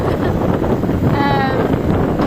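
Loud, steady wind buffeting a microphone while riding a motorbike, a dense rushing roar that fills the whole moment.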